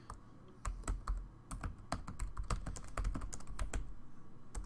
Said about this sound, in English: I'm just going to type in a heading here